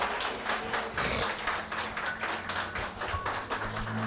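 A church congregation at a Sunday service claps in a steady rhythm, with overlapping hand claps that stay fairly even and moderately loud throughout, and no talking over them.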